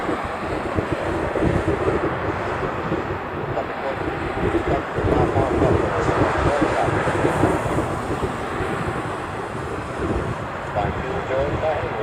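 A Boeing 717 airliner passes at Honolulu airport, its engines a loud, steady broadband roar mixed with wind buffeting that holds throughout without fading.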